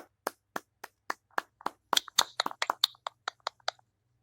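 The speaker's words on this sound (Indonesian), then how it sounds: "Tepuk tangan untuk kita semua" Classroom students clap in a rhythmic pattern, a run of sharp, separate hand-claps with a brief flurry in the middle, fairly quiet and heard alone against a silent room.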